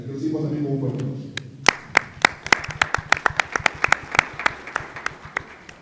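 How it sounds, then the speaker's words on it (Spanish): A voice speaks briefly, then scattered audience applause follows at the CONADES 2012 conference: sharp, distinct hand claps from a small group, close and uneven, continuing steadily to the end. "Aquí lo decimos también con un fuerte aplauso."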